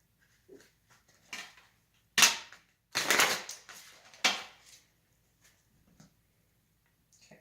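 Short bursts of rapid clicking flutter as a tarot deck is riffle-shuffled, in several separate rounds with soft taps and pauses between them.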